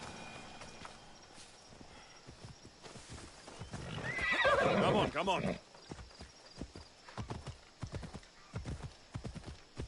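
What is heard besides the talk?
horse neighing and hooves, from a video game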